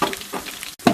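Fresh crab dropped into hot oil for a village-style crab curry, a short burst of close sizzling and bubbling that stops briefly near the end before a final loud splash of crackle.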